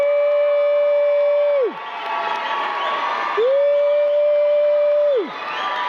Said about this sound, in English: Let's give a big round of applause, folks